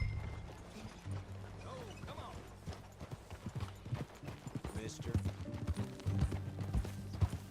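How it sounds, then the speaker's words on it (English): Horse hooves clip-clop at an easy, steady riding pace in Red Dead Redemption 2, with the rhythm picking up slightly over the clip beneath a few brief spoken lines. "That a new horse?"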